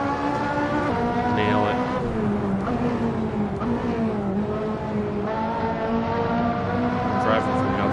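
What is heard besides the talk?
race car driving, outside view, from a video game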